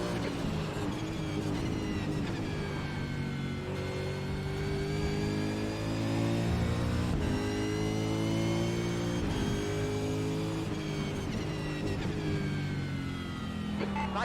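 Race car engines in the iRacing sim at Road America, including a Mustang Supercar, drone loudly and continuously, pitch rising and falling through gear changes as a rival closes in.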